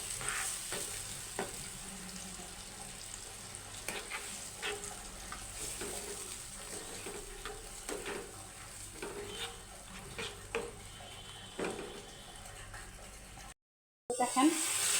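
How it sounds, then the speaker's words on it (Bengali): Dried fish (shutki) fries in a pan with a continuous soft sizzle while a utensil stirs and scrapes it in repeated clinks and scuffs, sounding close and fairly quiet, with a brief silent cut near the end. "এখন এটাকে সুন্দরভাবে একদম ভাজা ভাজা করে নিতে হবে, শুধু নাড়াচাড়ার উপরে রাখতে হবে এটাকে।"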